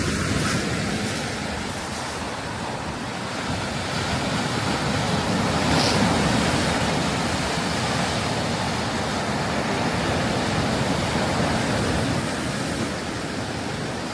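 Waves wash steadily onto a winter beach on a snowy day in Toronto, a continuous broadband surf roar with wind buffeting the microphone and a brief swell of spray near the middle, no talking.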